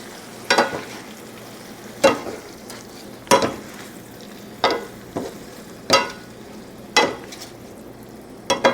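Shrimp, bell pepper and mushroom stir fry being stirred in a hot pan, giving seven or eight distinct scraping strokes at a steady rhythm over a continuous low sizzle, close and clear with no talking.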